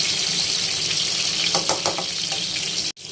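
Hilsa fish frying in hot oil, a dense continuous sizzle up close, with a few louder spits in the middle before an abrupt cut near the end.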